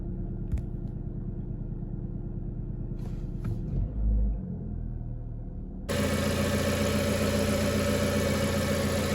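An Audi A4 B5 engine idles steadily after new spark plugs and high-voltage cables were fitted. It gives a continuous close rumble that grows louder and fuller partway through, with no talk.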